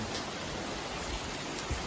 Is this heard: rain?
yes